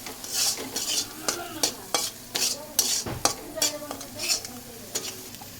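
Onion-based spice paste with ground chili frying in a pan for mustard boal fish curry, vigorous close stirring with rhythmic spatula scrapes and clinks over a loud sizzle.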